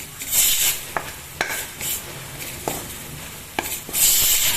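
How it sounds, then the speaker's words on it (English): Onion, ginger, garlic and ground spices frying in a pan for chana chaat, a soft steady sizzle under repeated scraping stirs of a spoon against the pan, no talk. "Add the spices, let them mix with the onion"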